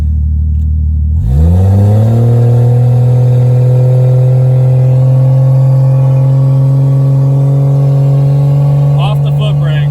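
A Lexus IS300 with a big turbo upgrade revs on the trans brake, its engine climbing after a brief lull into a loud, steady, sustained drone that holds near and constant with a faint rattle near the end.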